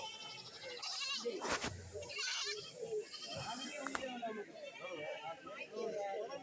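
Young goat kids bleat several times, some high and wavering, amid murmuring voices and crowd noise at a busy goat market in India.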